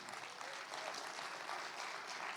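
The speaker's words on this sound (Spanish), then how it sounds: "Dele un aplauso al Señor" A church congregation claps together in praise, a dense, even wash of applause that holds steady throughout without any break.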